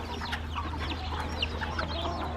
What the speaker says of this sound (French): Oh, il y a des poussins là. Tu les entends?